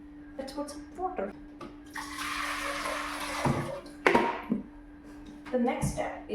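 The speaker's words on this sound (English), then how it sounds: "let's put some water" Water poured onto salted cabbage while making kimchi at home, a broad splashing rush swelling over a few seconds with brief kitchen clatters and handling noises before and after.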